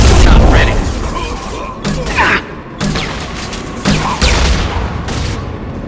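Gunfire from the Mass Effect 2 shooter, with heavy booming shots and bursts over a dense backdrop of combat noise, a few sharper blasts standing out near the middle and end.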